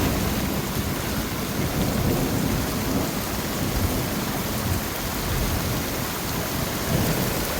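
A thunderstorm over a tent camp: heavy rain pours steadily on the surface with deep rumbling thunder rolling beneath, a dense, loud, continuous wash with no voices.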